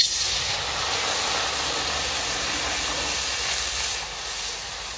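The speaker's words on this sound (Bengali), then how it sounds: "আমার কড়াই গরম হয়ে গেছে, এবার জল দিয়ে দিচ্ছি।" Water poured into a hot wok on a stove gives a loud, steady hiss of steam that continues for several seconds and eases slightly near the end.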